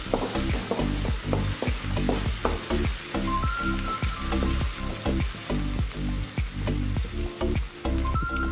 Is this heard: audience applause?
no